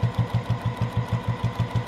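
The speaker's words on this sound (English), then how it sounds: "I'm gonna do a back stitch right here, so it's secure. And then we're going to sew 1/4 inch." Sewing machine running a steady stitch along a quarter-inch seam on a fabric knitting supply caddy, its rapid, even needle rhythm close and continuous with no talking.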